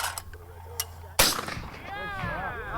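Shotgun firing during skeet shooting practice: a single sharp, loud report cracks out mid-clip, followed by echoing outdoor ambience and a faint voice in the background.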